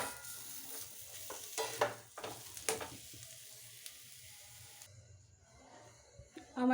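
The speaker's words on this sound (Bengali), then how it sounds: "আঁচটা কমিয়ে আলুর পুরটাকে সুন্দর করে কষিয়ে নিতে হবে।" Potato filling is sautéed and stirred in a pan over low heat, a soft sizzle running under intermittent scraping of the spatula, with a few louder clacks near the middle and end.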